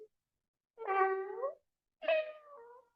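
Two drawn-out meows voiced by a person imitating a cat, clear and close, with a short pause between them.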